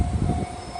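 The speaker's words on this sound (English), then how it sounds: "It is the long freight train." A long freight train passing in Japan, heard as a loud low rumble and rolling clatter with a steady high whine on top, close by and filling the short moment without speech.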